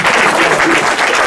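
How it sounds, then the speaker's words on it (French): Audience applause at a political café gathering, dense and sustained throughout the brief moment, loud and close with crowd noise mixed in. "On l'applaudit encore."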